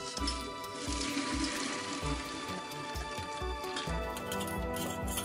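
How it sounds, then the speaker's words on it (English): Boiling water pours steadily over meat in a strainer and splashes in a continuous rush, with faint clinks and patter throughout. "The meat is washed with boiling water and the blood will be gone."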